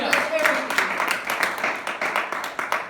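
Church congregation claps in praise to God, a dense burst of rhythmic hand claps close by, with voices mixed in over the clapping.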